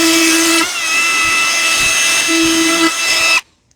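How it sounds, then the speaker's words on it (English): A router trims laminate veneer on a repair job, spinning with the bit's rotation: a loud, steady, high-pitched motor whine runs close and continuous for over three seconds, then cuts off abruptly. "Seems to work better in the direction of the rotation of the router bit."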